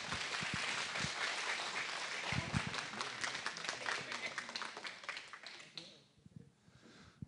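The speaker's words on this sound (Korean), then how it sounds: "다시 한번 뜨거운 박수 부탁드리겠습니다." A church audience at a worship symposium breaks into dense, warm applause that holds steady for several seconds, then fades out near the end as the room quiets.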